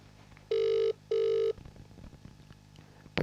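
A telephone rings twice during a call, two clear electronic ring bursts close together, followed by a quiet line with faint background noise.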